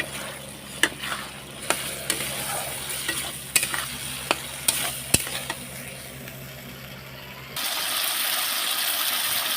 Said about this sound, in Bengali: এর মধ্যে এবার আলুগুলো দিয়ে দেবে, দিয়ে আবার ভালো করে নেড়ে নেব সুন্দরভাবে